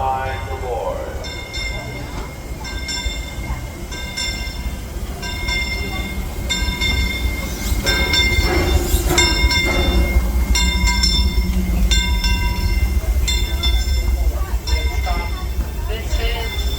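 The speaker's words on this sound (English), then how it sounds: "The Disneyland Limited, now arriving from a trip around Walt Disney's Magic Kingdom." At night, the Disneyland Railroad steam train Fred Gurley rolls into the Toontown station with a steady rumble and clanking while a bright, repeating chime sounds above it. A voice on the public address speaks over the arrival.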